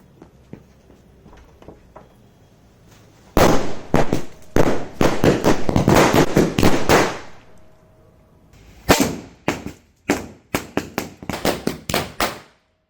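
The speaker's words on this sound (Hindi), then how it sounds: "चलिए इस लड़ी को टेस्ट करें।" A string of Diwali firecrackers, a ladi, goes off in a long rapid crackling burst of sharp loud bangs. After a short pause, a further spaced run of separate cracks follows, close and loud.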